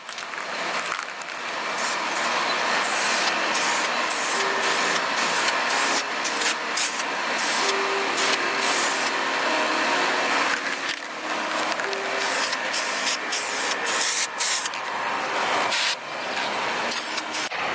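Clear coat is sprayed onto a car in repeated bursts, a loud airy hiss broken by short pauses between passes, with faint tones in the background.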